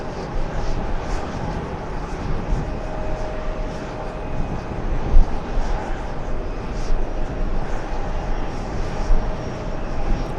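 Large GE90 jet engines droning steadily at a distance, a continuous broad roar with a faint high whine.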